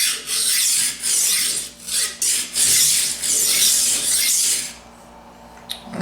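Knife rolled across a Tumbler diamond rolling knife sharpener, a series of loud gritty rasping strokes in uneven rhythm, each a short abrasive scrape, fading to near quiet at the end.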